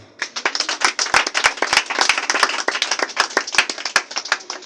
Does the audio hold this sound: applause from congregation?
yes